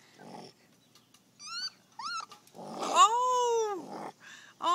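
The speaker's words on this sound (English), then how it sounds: "That's the sound of the raccoon coming to." A trapped baby raccoon growls and lets out high, wavering squeals in short bursts and then one longer rising-and-falling cry, close and fairly loud, with brief pauses between calls.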